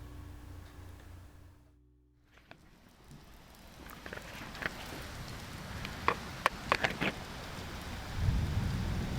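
Steady rain hisses through a thunderstorm in the Uncompahgre. A brief lull gives way to swelling downpour, sharp crackling strikes and a deep rumble of thunder rolling in near the end.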